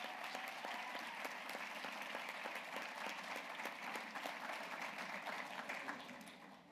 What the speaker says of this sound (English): So round of applause for all of you that have been involved with that.